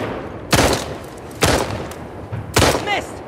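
Gunfire in The Last of Us Part II, three separate loud shots spaced about a second apart, each with a sharp crack and short decaying tail over quiet background.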